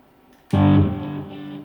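A single distorted electric guitar chord on the neck pickup through a Joyo American amp pedal, struck once, loud and thick with a warm, bassy tone, ringing out and slowly fading.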